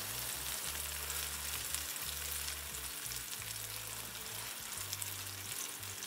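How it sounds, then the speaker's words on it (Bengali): Hilsa fish go into hot oil over well-fried spice paste for a thin curry with pumpkin and beans. A constant close sizzle runs over a low steady hum, with no talking. "একদম তেল উপরে উঠে আসলো, পুরা মশলাটাই একদম ভাজা হয়ে গেছে। এখন দিয়ে দিব মাছ।"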